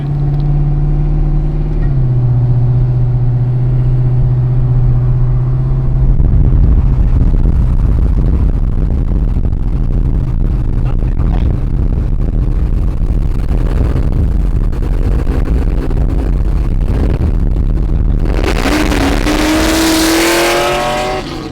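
A loud 1000hp Camaro engine idles, then revs hard and roars continuously at close range, ending with a high tire squeal.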